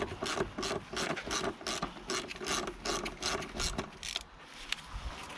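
Several short bursts of ratcheting clicks come from a hand tool backing T25 Torx screws out of a 2003 Volvo XC90's rear bodywork, close up with brief pauses between strokes.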